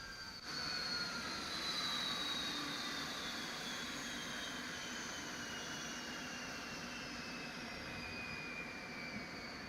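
JT8D jet engines on an MD-83 spool down in a flight simulator, a steady broadband roar with faint descending whine tones fading gradually over the whole stretch.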